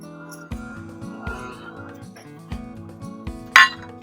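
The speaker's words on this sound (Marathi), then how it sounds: "हे सगळं आपण हलवून असं छान मिक्स करून घ्यायचं आहे" A spoon stirring salt, poppy seeds and cardamom powder together in a bowl, with light clinks against the side at a steady, repeated rhythm and one sharper clink near the end.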